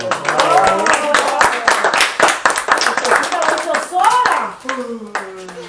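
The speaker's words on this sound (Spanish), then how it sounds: "Un aplauso para Esther." A church congregation claps for a child's handiwork, a burst of quick irregular hand claps mixed with voices and cheering, fairly close and loud, tapering off near the end.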